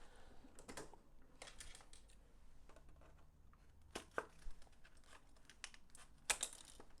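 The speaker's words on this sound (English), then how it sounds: "Oh, yeah, you do need scissors to cut it." Scissors snipping through plastic packaging around a four-pack of Philips Sonicare C3 replacement toothbrush heads, with faint crinkling and a few sharp cuts and clicks, quiet and close, no talking.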